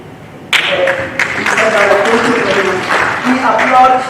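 A parliamentary House sitting applauds honoured educators: a burst of clapping starts abruptly and continues steadily under a speaker's voice, which talks over the applause throughout.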